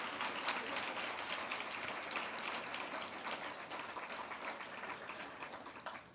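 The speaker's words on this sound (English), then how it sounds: "Please give her another round of applause" Applause for a keynote speaker at a writers' conference, quiet and distant, with steady clapping from an audience sustained across the whole span and tapering slightly toward the end.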